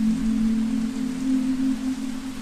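Heavy rain with wind pouring steadily around an empty hut on a plantation, a constant dense wash of noise with a low steady hum underneath, no voices.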